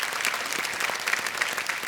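A studio audience on the quiz show Kaun Banega Crorepati gives a contestant, a software engineer from Kolkata, a brief burst of steady, moderately loud applause.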